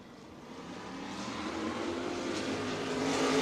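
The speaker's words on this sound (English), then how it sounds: "Ladies and gentlemen, sprint cars are green," Sprint cars roar off at the green flag at Crawford County Speedway, a broad engine drone heard from a distance that grows steadily louder over a few seconds.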